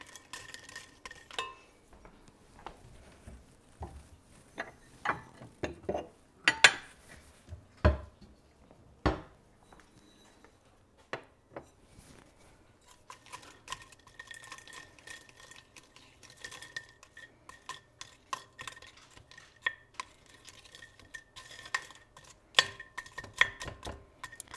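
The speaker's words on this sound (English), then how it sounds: "getting a little bit of a greasy coating on my pan here" Cooked bacon is pushed around a greasy pan, with quiet, irregular scrapes, taps and light clinks of the utensil against the pan and stretches of near-silence between them.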